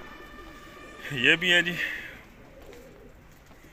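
Pigeons kept in a rooftop loft for kabootar bazi pigeon flying, giving a short burst of calls midway through, fairly close, over a steady background hum with someone speaking briefly.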